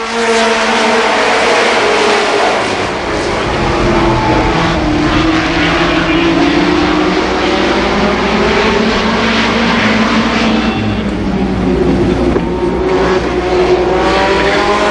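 Super late model race cars roar around Columbus Motor Speedway during a 1990 heat race, a loud continuous engine drone with rising and falling pitch as the pack circles, commentator barely audible beneath.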